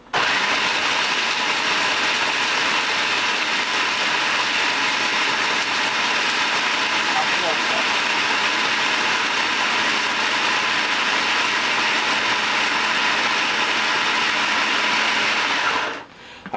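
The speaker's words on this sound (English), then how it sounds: "Put everything in a bowl, ready to be processed into a food processor." A food processor grinds cashew nuts and dark chocolate, giving a loud, steady whirring roar that runs continuously for about sixteen seconds before cutting off abruptly.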